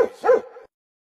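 Dog letting out two quick yappy barks, close and fairly loud, followed by silence.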